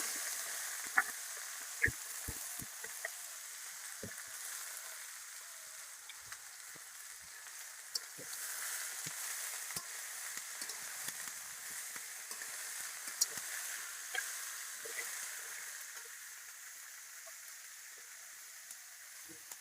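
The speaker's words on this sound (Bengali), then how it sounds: "ভাজা হয়েছে, আলু আর লাউর চোকলা দিয়ে দিলাম।" Potatoes and bottle gourd peel fry in a pan with a faint, steady crackling sizzle and occasional small pops and ticks.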